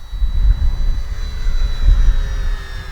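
A small RC model aircraft engine on an Arrows F8F Bearcat warbird drones steadily with a high whining tone, the pitch sliding slightly as it passes at full speed, loud and continuous throughout.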